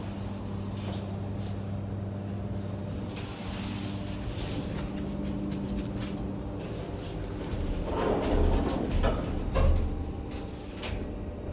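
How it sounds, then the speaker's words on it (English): The door operator of a 1998 Schindler MT 300A hydraulic elevator in a parking garage runs with a steady mechanical hum and rumble, swelling louder near the end as the doors move. "That door operator still sounds like it always does."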